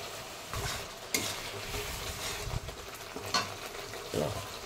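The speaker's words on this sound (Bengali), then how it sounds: "এরকম মশলা কষিয়ে তেল ছাড়তে শুরু হয়ে গেছে" Spice masala sizzling in oil for alur dom in a Bengali home kitchen, a steady crackling fry broken by several scrapes and knocks of a spoon stirring the pan.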